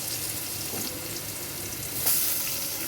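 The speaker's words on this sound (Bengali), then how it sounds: "পেস্ট করার পরে আমি কড়ার মধ্যে একটু পেঁয়াজ ফোড়ন দিলাম, কুচনো পেঁয়াজ দিলাম" Chopped onion and tomato frying in a wok for a light fish curry, a steady close sizzle with a brief louder hiss of stirring near the end.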